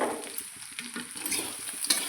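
Small fish curry (chuno macher chorchori) with ground mustard and green chilli is stirred as it fries in a pan, a soft sizzle running beneath faint scraping stirs.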